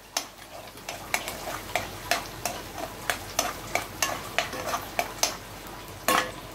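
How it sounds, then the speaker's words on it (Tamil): Green chillies frying in oil in a pan, a soft sizzle punctuated by a regular run of crisp spatula taps and scrapes against the metal, close and fairly quiet. "பச்சை மிளகாவும் கொஞ்சம் எண்ணெயில் நல்லா செவக்கட்டும்."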